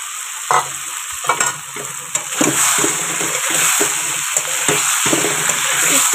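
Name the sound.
potatoes and eggs frying and being stirred in spices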